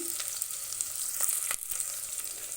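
Green chillies sizzling in hot oil, a steady close crackling hiss that runs alone, with a couple of brief stirring scrapes.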